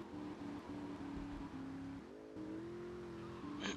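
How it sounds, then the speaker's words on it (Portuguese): A car in Grand Theft Auto: Vice City revs continuously, its engine tone climbing and holding steady pitch with a few gear-like shifts, moderately loud and alone. "Pá, o carro até anda bem"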